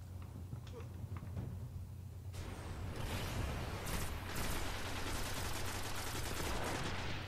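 Gunfire from a Destiny Crucible multiplayer match breaks out as a dense, continuous barrage after a quieter stretch, with rapid crackling shots layered over a steady game soundtrack hum.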